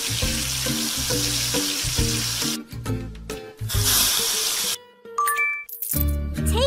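Sizzling, bubbling melt of silver in a pony care video game, with clinking metallic tinkles and bright chimes over a steady rhythmic music loop, loud and close.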